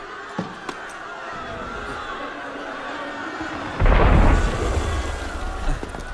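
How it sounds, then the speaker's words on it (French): A cannon shot booms in the Assassin's Creed Unity game, a sudden loud low blast with a rumbling tail that stands out over a bed of crowd murmur and ambient noise. "C'était un coup de canon."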